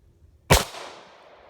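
A single sharp, loud shot from a Hi-Point pistol fired at a target, with a short decaying tail and no voices.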